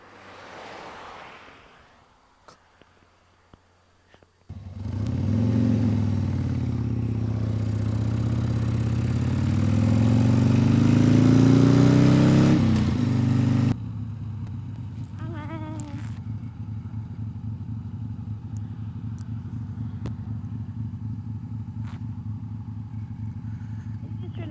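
A motorcycle rides through Death Valley. Its engine kicks in with a loud roar and heavy wind rush, swells, then drops to a steady, throbbing engine drone close by.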